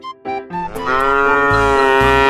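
A cow lets out a loud, drawn-out moo that begins with a couple of short calls and swells into one long, sustained bellow, heard alone.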